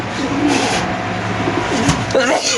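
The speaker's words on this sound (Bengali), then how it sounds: "খাঁচা নাম্বার তিপ্পান্ন এক জোড়া সবজি রেসার কবুতর" A caged pair of racer pigeons coo softly and repeatedly at close range, over steady market-like background noise and murmuring voices.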